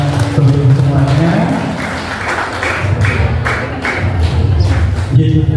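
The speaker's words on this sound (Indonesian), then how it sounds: "Oke, tepuk tangan buat kita semuanya" A roomful of people clapping hands together during a school guidance session, a dense steady wash of applause lasting throughout, with voices mixed in underneath.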